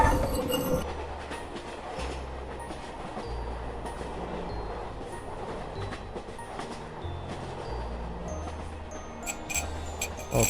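Express passenger train No. 6 rolling along heard from inside a wagon, a continuous low rumble with rattling, clattering wheels and occasional squeals, steady and close.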